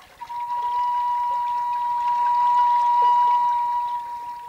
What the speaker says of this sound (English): These are Frank's singing fountains.